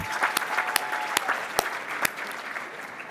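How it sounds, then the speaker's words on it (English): A luncheon audience at a Greater Washington Hispanic Chamber of Commerce executive event applauds its sponsors, scattered claps crackling over a steady murmur of crowd clapping, with a few sharp louder claps standing out. "Let's give a big round of applause to all of our sponsors and for their support for the Chamber."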